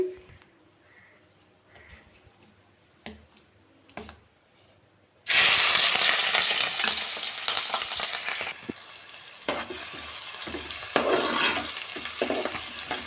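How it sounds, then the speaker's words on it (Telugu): Onions drop into hot oil for a South Indian fish curry and burst into a loud, hissing sizzle that stays strong and crackling, after a few quiet clinks and knocks of pan and utensils. "ఇప్పుడు ఆయిల్ కాగింది ఇప్పుడు ఇందులోకి ఆనియన్స్ వేసుకుందాం"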